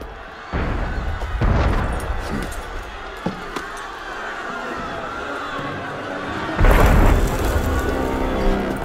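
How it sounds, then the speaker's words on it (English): Several deep booms of cannon fire in the game Assassin's Creed Unity, one near the start and a heavier blast later, with crowd noise and voices in between. "That was cannon fire."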